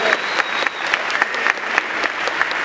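Sustained audience clapping honoring sponsors at a school gathering, a thick, even wash of many hands with a few sharper individual claps standing out.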